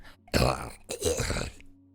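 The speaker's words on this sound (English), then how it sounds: "He keeps clearing his throat egregiously." A man clears his throat twice in quick succession, a rough, guttural rasp heard close up against a quiet background.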